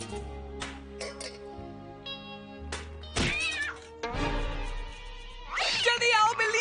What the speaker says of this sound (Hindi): जल्दी आओ, बिल्ली आ गई।